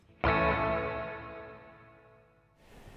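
A bright, sustained struck tone through a Fractal FX8 delay with about 50% diffusion blooms and decays smoothly into a diffuse, smeared wash of repeats, fading out before a soft noisy tail.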